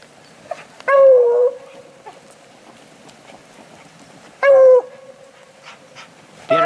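Beagles bay while out hunting, two long drawn-out bawling cries a few seconds apart, loud and fairly close, with quiet outdoor background between them.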